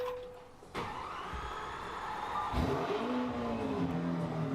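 A Lamborghini Aventador starter whirs, then the engine catches with a sharp burst and settles into a loud, rumbling idle close by, with a second rise in revs midway.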